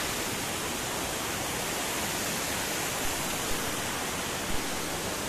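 Vibhavadi Waterfall roars as a steady, broadband rush of falling water, loud and close, unbroken from start to finish with no voices.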